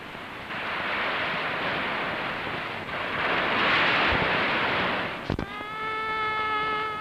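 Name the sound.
waves breaking on the shore near Aguada Fort, Goa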